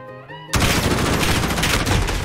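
Dense, continuous rapid gunfire in a team deathmatch video game, loud and close, bursting in abruptly after a brief tonal sound.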